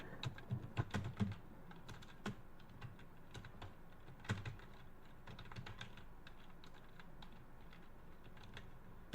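Rapid typing on a computer keyboard, a steady run of light close clicks with a few louder bursts of keystrokes, alone without speech.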